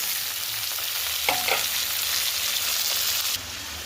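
Chopped tomato fries in hot oil in a pan for a Bengali pabda fish curry, a steady close sizzle broken by a few clattering stirs of a spoon against the pan, with no voices.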